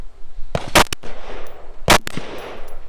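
Rifle shots at a two-gun shooting match ring out as three sharp, loud cracks in quick succession, a pause, then another crack, each with brief outdoor reverberation.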